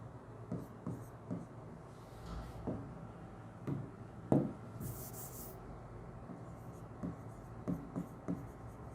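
Chalk taps and scratches on a classroom board in irregular short strokes during a Hindi-language physics lesson. The strokes sound close but fairly soft over a steady room hum.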